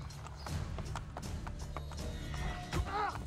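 Hooves clip-clopping steadily at a moderate distance in Assassin's Creed Brotherhood, with a brief horse whinny near the end and a faint game-like ambience.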